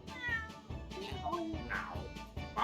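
Cat meowing in the video game The Great Ace Attorney Chronicles, several short, bright, close meows in a quick series, loud and alone.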